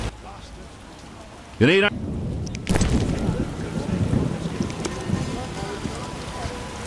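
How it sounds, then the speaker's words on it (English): Heavy rain pours down in The Witcher video game, a steady broadband downpour that swells louder partway through, with a brief voice and a short tonal game sound breaking in near the start. "What a downpour!"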